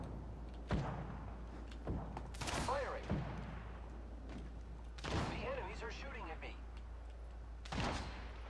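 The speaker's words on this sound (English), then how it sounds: "The enemies are shooting at me." Gunfire in an Apex Legends match: sharp bursts of shots and heavy impact thumps arrive in clusters, with scattered single reports between them and a game voice line in the mix.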